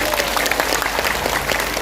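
Audience applause at a religious gathering at a pesantren, dense crowd clapping that is loud and continuous throughout this brief moment, with a faint murmur of voices underneath.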